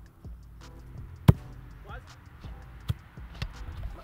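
A helium-filled 2022 World Cup football bounces on the ground after a kick, giving a few sharp thuds at uneven intervals, one much louder than the rest, under low chatter and movement.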